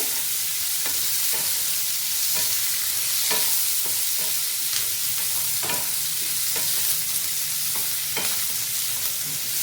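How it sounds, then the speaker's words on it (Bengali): Soya chunks fry in a pan over a low gas flame, a continuous close sizzle broken by regular scraping stirs every second or so, with no one talking. "এবার ভালোভাবে এগুলোকে হালকাভাবে গ্যাসের আস্তে একটু লো করে দিচ্ছি। হালকাভাবে এগুলোকে ভেজে নেব।"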